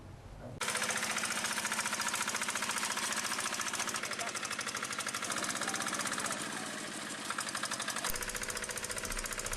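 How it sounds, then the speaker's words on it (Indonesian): A remote-controlled plowing tractor works a rice paddy in Bone, South Sulawesi, its engine starting abruptly and then hammering steadily with a rapid, loud, knocking rhythm that runs without a break, with a voice talking over it. "Petani tersebut membuat traktor pembajak sawah yang digerakkan dengan remote control"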